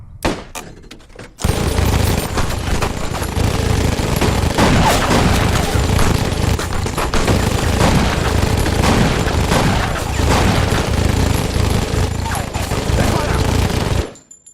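A sustained volley of rapid automatic gunfire in an action film battle, loud and dense bursts of shots and impacts lasting over ten seconds before cutting off abruptly.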